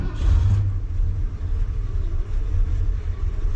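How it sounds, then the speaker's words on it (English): A 1979 Ford truck's engine fires and settles into a deep, low, rumbling idle, close and steady with no voices. "Okay, truck is much easier to start now."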